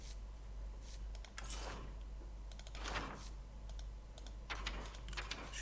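Quiet bursts of typing on a computer keyboard, irregular clusters of soft key clicks with pauses in between over a low steady hum, no speech.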